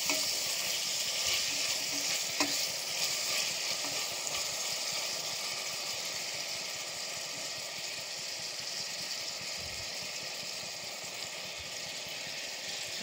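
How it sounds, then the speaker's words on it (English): Tomatoes frying in a pan sizzle continuously and fairly softly, with a few faint scrapes from stirring and no voices over the cooking. "Then I add my tomatoes. And stir them well."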